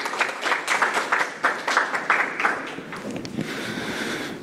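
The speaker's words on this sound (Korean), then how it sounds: "박수로 맞아주시기 바랍니다" Audience at an academic theology conference welcoming a speaker with applause: a brief burst of clapping with distinct hand claps early on that blends into a steadier wash, then gradually thins out.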